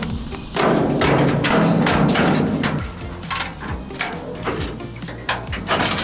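A rusty steel tailgate, held in with pins on an old army trailer, drops open with loud close metallic clanks and a grinding scrape, followed by several lighter knocks, with no voices.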